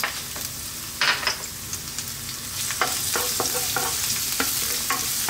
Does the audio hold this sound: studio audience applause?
no